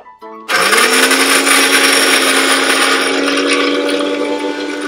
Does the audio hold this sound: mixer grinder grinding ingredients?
yes